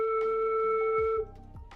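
A beginner's flute sounds a low note from slowed breath, a steady breathy tone held for about a second before it drops away into a few soft, lower puffs.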